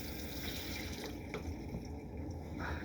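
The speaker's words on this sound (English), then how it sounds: "Take hot water and just rinse out your down stem." Hot water runs and splashes steadily as a bong downstem is rinsed out, a continuous close hissing stream with faint drips and no talk.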